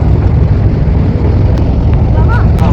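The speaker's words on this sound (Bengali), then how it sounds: "তো না ট্রলার আসছে, তুমি দেখো না প্রচুর ঢেউ আসবে।" A fishing trawler on open water sends up a loud, low rumble of engine and churning waves, buffeted by wind, close and continuous, with people talking over it.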